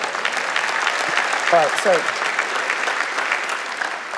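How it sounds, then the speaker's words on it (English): An audience at a Bible teaching session claps together in a steady, moderately loud burst, while a voice speaks briefly over it. "Let's all clap."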